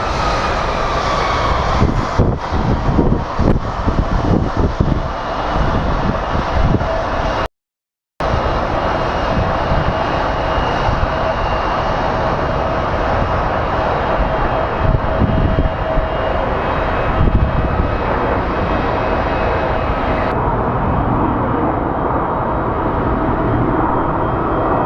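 A loud, steady roar of a jet airliner on landing at Phoenix Sky Harbor International Airport, continuous rumble filling the whole stretch with a brief dropout partway through.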